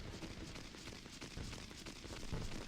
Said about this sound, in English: those fireworks are loud